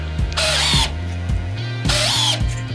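A Black & Decker battery drill drives big screws, its motor rising in two loud, close, whining bursts with clicking and ratcheting in between.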